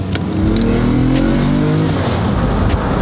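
A Lamborghini Murcielago SV engine revs hard nearby, a loud, deep roar that climbs in pitch over a couple of seconds and then settles into a steady rumble.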